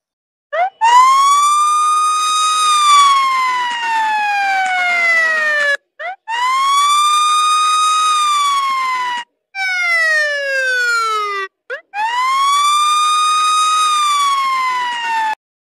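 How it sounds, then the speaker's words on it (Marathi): A police siren playing from a mobile phone wails in long rising-and-falling sweeps, clear and fairly close. It stops briefly between cycles and includes one faster yelp burst. "मोबाईलात सायरन वाजू राहिले त्या पोलिसाचा"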